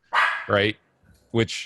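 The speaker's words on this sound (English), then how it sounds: "Sorry about my dog right now." A pet dog barks close and loud indoors, two quick sharp barks, a pause, then another pair of barks, overlapping a man's speech.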